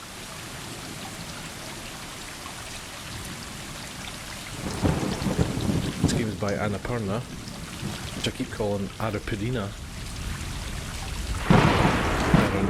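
Steady rain falls with rumbling thunder on a rainy night in the video game Stray, someone talking over it for much of the time, with a louder surge of downpour near the end.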